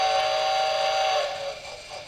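A steam train's whistle blows one long sustained tone as the train departs, loud and close, then tapers off slightly toward the end.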